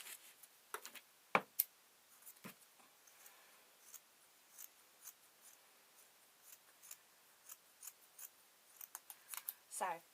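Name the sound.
scissors cutting fabric for a tablet sleeping bag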